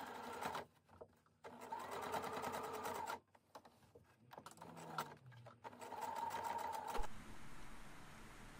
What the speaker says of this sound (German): wenn ich dann wieder am Anfang der Naht angelangt bin, nähe ich ein paar Stiche darüber hinaus und verriegel die Naht